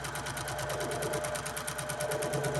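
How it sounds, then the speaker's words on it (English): A sewing machine top stitches a bucket hat with a long stitch length, giving a steady rapid needle rhythm that is moderately loud and continuous throughout, with no talking. "we're top stitching, so I do have a nice long stitch"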